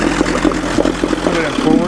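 A Mercury Merc 110 9.8 hp outboard motor idles a little fast, a steady close putter heard briefly beneath a voice.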